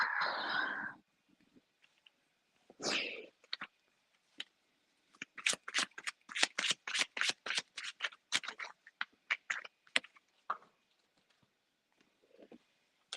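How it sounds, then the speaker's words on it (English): Tarot cards being shuffled and pulled by hand on a cold balcony. A brief riffle comes first, then a fast run of crisp, snapping card flicks in close succession, then a few scattered softer slides. The sound is close and quiet, with no talking. "Let's continue to pull a couple more cards."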